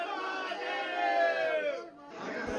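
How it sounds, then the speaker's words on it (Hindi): A dense crowd of devotees at a Shiva temple on the first Monday of Sawan, voices massed into a loud rising chant or cry that swells and then drops off, close and continuous. "सुबह से शिवालयों में भक्तों की भारी भीड़ लगी हुई है।"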